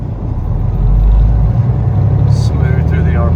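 A Detroit 12.7L diesel in a 2014 Peterbilt 389 factory glider truck runs with a loud, close, steady low rumble, rising slightly in pitch as it revs smoothly, with a voice talking over it.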